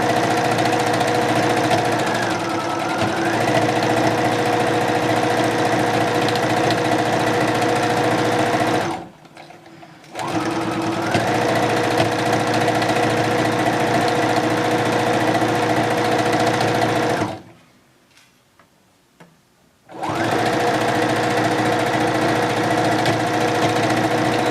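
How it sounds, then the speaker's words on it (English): A sewing machine stitching a seam on a headband with back stitching, its loud, steady motor buzz running in long stretches broken by two brief pauses. "we're gonna sew and then we're gonna back stitch"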